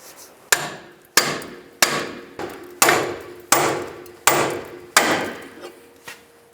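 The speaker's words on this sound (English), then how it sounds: "Now I'm going to use a pickle fork to separate the ball joint." Hammer blows on a pickle fork wedged into the upper ball joint of a 2005-15 Nissan Xterra, about nine sharp metallic strikes at a steady rhythm, each ringing briefly, close and moderately loud.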